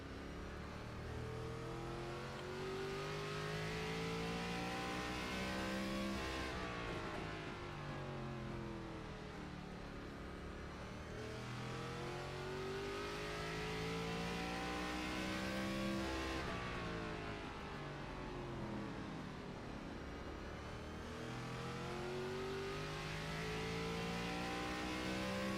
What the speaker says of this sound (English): listen to this man rev his engine